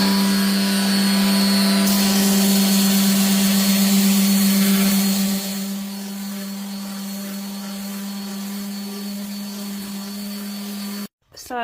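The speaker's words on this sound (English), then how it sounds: "So that was 40 grit that I have just done, and it has killed my sanding head." Power sander with a 40 grit disc grinding down a resin charcuterie board, a loud steady whine with a strong low hum that drops a little partway through and then cuts out abruptly near the end.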